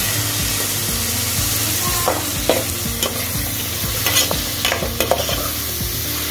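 Boiled drumstick and elephant foot yam being stirred into aviyal in a pan, a close, sizzling scrape of spoon against vessel with repeated knocks and clatters.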